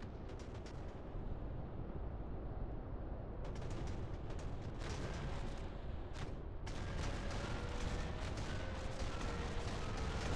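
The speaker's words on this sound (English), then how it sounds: "They're shooting at us." Gunfire and artillery-like blasts strike a warship in the space naval combat game Nebulous, a dense continuous barrage of rumbling impacts and crackling shots with sharp bursts, no talk.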